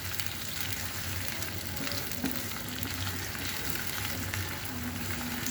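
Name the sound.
onions frying in oil in a pan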